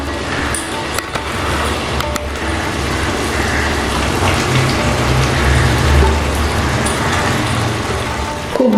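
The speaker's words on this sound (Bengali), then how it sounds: "খুব ভালো করে এই মশলার সাথে সব কিছু আবার একটু কষিয়ে নিচ্ছি।" Banana blossom, prawns and slit green chillies sizzle and fry with spices in a pan over a medium flame, a steady dense crackling hiss that holds close and loud throughout.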